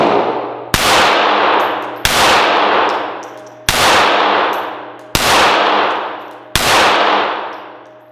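.380 Auto pistols, a Kimber Micro among them, fire five evenly spaced loud shots at a steel target, each a sharp crack with a metallic clang that rings and fades before the next.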